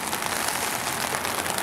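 Steady rain falls outdoors near the Kaiyukan aquarium in Osaka, a dense, even hiss of drops on surfaces that holds constant throughout, with no voices.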